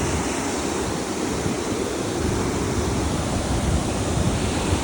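Water pours down through a natural rock hole, a loud, continuous broadband rush like a small waterfall, steady and close with no voices.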